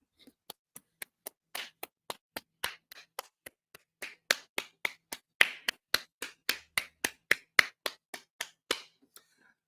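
Steady hand clapping on the two and four, a soul clap: about thirty sharp, close claps in an even rhythm that grows louder and more spirited partway through, with no talk over them.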